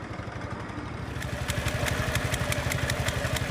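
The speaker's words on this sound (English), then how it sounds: "Powered by small gasoline engines, the bamboo rafts were major sources of noise, oil pollution, and exhaust fumes." Small gasoline engine driving a bamboo raft on the river at Guilin, a steady, rapid, close mechanical putter with a clattering pulse throughout, no voices.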